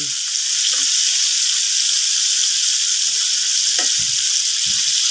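Buffalo chicken wings fry in hot oil with a loud, dense, continuous sizzle, close up, and a few soft clatters and bumps from handling underneath.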